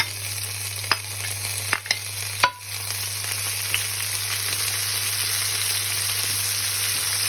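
Mudakathan leaves fry in oil left from frying, a steady close sizzle broken early by a few sharp scrapes and clacks of a stirring spoon against the pan.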